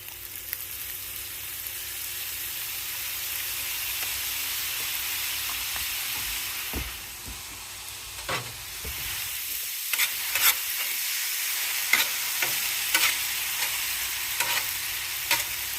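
Chicken fried rice sizzles loudly on a hot hibachi-style griddle as Japanese barbecue sauce is stirred in, a continuous hiss with sharp scraping and tapping of the utensils.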